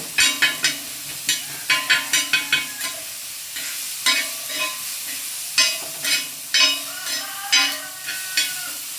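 Tomatoes sauté in a pan for chicken sukka, a spoon stirring and scraping in repeated bursts over a soft, continuous sizzle, close and fairly loud, with no voice.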